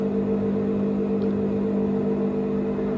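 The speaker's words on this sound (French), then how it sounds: "Je viens de relancer une charge de la voiture. Donc là ça se déclenche." An electric car charger switches on and settles into a steady loud electrical hum with a constant whir, unbroken for several seconds.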